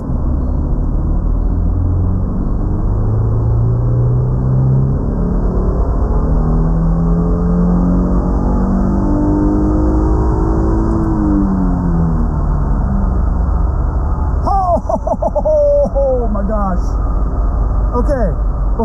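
Subaru XV Crosstrek with traction control off accelerating hard in second gear, a loud, steady engine roar rising in pitch across the run, with brief sharp squeaks or chirps near the end.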